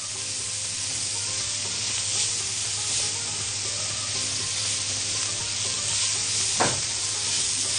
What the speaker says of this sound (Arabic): هنشوح البصل شويه